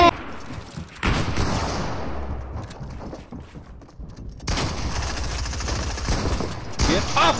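Sustained automatic gunfire in a video game, loud and continuous in long bursts with a brief quieter lull, and faint voices underneath.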